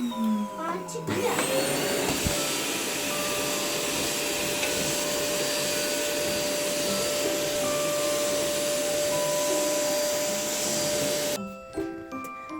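Household vacuum cleaner running on a floor indoors: a steady high whine starts abruptly, holds for about ten seconds under occasional voices, then cuts off.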